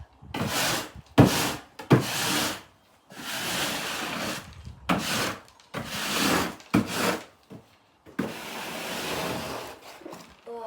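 Sweeping out a new horse stable floor, a series of harsh scraping broom strokes in irregular bursts separated by short pauses, close and fairly loud.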